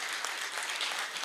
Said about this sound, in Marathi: आपण सगळ्याच वक्त्यांचे इथे टाळ्या देऊन जोरदार स्वागत करूया